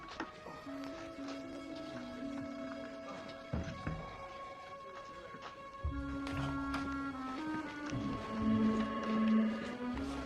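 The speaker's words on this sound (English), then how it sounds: "Can I use your fax machine?" A fax machine printing, giving a steady mechanical whir with sustained tones that pauses briefly before resuming louder, with soft thunks and clicks, close and without speech.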